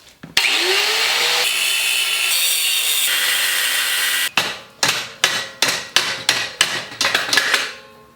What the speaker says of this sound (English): I'm gonna chop this thing off because we can't use this frame